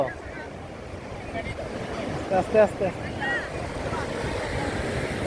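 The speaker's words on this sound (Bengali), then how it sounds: "এখানে সমুদ্রের গর্জনটা খুব সুন্দর লাগছে" Sea waves breaking on the beach at Cox's Bazar in the afternoon, a steady wash of surf and wind under people talking nearby.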